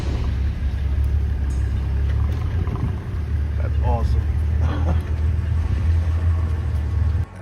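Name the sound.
safari car engine as it backs up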